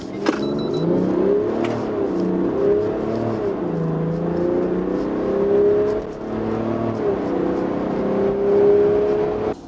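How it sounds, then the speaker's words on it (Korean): Engine of a Land Rover Defender 90 during a 0–100 km/h acceleration run, its tone climbing and dropping through several gear changes over about ten seconds, heard steadily from inside the vehicle. "아주 엔진 반응 보면 대단히 강력한 반응 보여주고 있죠. 엔진 사운드가 이를 말해주고 있습니다."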